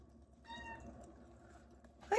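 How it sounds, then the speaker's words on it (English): A pet cat asking for affection gives one clear, drawn-out meow close by in a quiet kitchen, followed by a brief louder sound at the end. "Oh, the cat wants some love."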